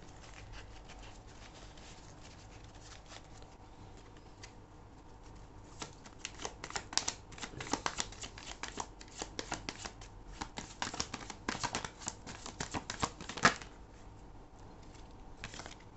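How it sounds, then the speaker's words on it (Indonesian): Tarot cards being shuffled by hand, a soft steady riffling and patter that grows busier and louder midway, with sharper flicks and snaps toward the end, close up and without talk. "Oke, ini masih belum dapat kartunya ya. Aku akan shuffle lagi."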